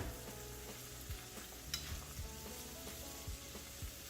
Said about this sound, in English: So I'm just gonna let this simmer and cook.